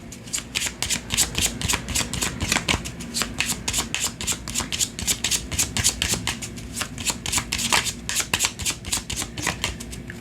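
Tarot and Gypsy oracle cards being shuffled by hand, a steady run of crisp riffling and slapping bursts repeating close up for about ten seconds with no voices.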